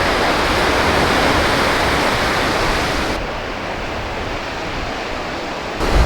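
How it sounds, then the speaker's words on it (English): Sea waves wash in on the beach at Lunan Bay, Scotland, a loud, steady roar of surf that fills the whole stretch and softens slightly partway through. "the sea's definitely coming in just now"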